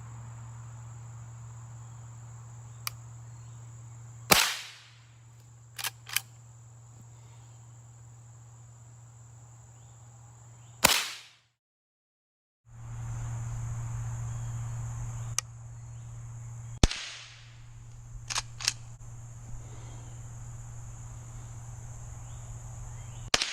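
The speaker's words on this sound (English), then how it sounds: "rack a shell, put her on safe, and we're just gonna shoot freehand and we'll see how we do off of that" A Henry .22 lever action rifle fired freehand outdoors, about four sharp, loud shots spread out with racking clicks between them, over a constant chirping of crickets.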